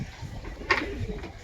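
Pigeons at a home loft, including a Narayanpur-bred bird, give a brief soft coo midway through, faint and close over quiet background hiss.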